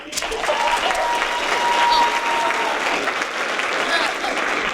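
Audience applause after a high school theatre production of Guys & Dolls Jr, a steady wash of clapping that fills the room with a few cheers, holding evenly throughout.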